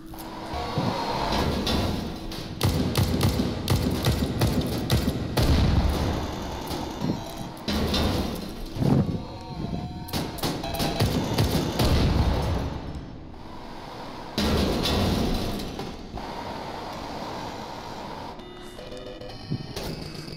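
Rapid video-game gunfire firing tracer rounds, loud dense bursts rattling almost continuously with a few short breaks, no talking over it.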